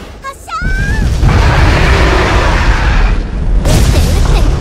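Naval cannon fire and explosions in the video game Abyss Horizon: a short whistling tone, then a loud booming blast that rumbles for a few seconds, followed by another heavy burst near the end.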